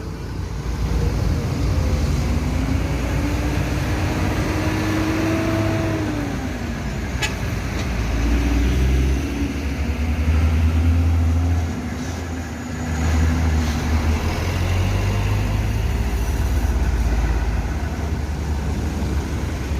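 Chartered and executive buses carrying returning Minang travellers into West Sumatra rumble past with deep engine drone and tyre noise, a rising engine whine swelling and fading over steady roadside traffic.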